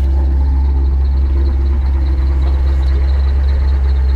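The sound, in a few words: Flowmaster exhaust on idling V8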